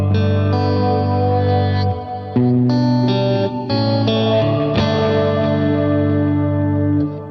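Sustained distorted guitar chords ring through a Strymon BigSky MX reverb pedal with pre-delay, changing every second or so, with a washy, spacious tail and no voices.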